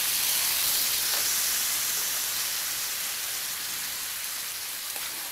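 Water is poured into a hot pan of soybean curry, raising a loud, steady sizzling hiss that holds for several seconds and eases only slightly, with no voices.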